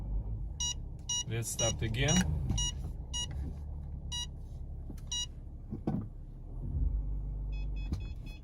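A Mercedes parking sensor emits short high beeps in an uneven rhythm over low engine rumble, with someone speaking briefly partway through.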